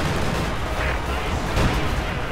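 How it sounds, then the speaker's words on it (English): Zeroing artillery barrage landing in Company of Heroes, a steady rumbling wash of distant shell impacts and gunfire blending into continuous battlefield noise, fairly loud with no clear breaks. "we also have what looks like zeroing artillery coming in"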